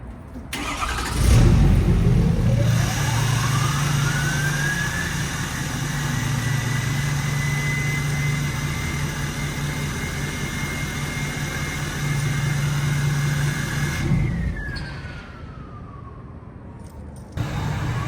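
A 2017 Ford F-250 6.7 Powerstroke diesel engine with a 9-blade turbo cranks and catches, settles into a loud, steady idle for several seconds, then shuts down.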